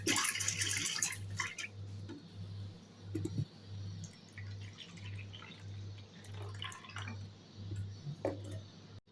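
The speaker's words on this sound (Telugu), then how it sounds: "శనగపప్పు 1 కప్పు తీసుకొని శుభ్రంగా వాష్ చేసుకోవాలి" A cup of soaked chana dal being washed in water in a home kitchen, with intermittent splashing and dripping bursts over a steady low electrical hum; no one speaks.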